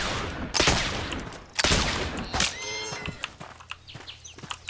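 Video game The Oregon Trail hunting scene with several loud bursts of gunfire, a couple of sharp shots followed by fainter pops and clicks, alone.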